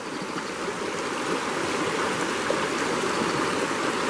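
Fast-flowing river water rushes steadily and close by, a broad continuous roar with no voices.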